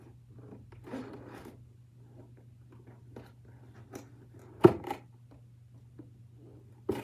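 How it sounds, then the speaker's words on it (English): Scissors cutting into doll packaging, heard close as a few faint, quiet snips and rustles of plastic and cardboard with a couple of sharper clicks, in a quiet room. "here's my scissors."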